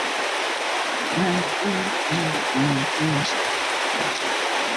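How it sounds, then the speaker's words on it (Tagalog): Heavy nighttime rain hisses steadily as a dense, even wash, with a faint voice-like hum briefly underneath mid-way. "Hindi tumigil ang ulan."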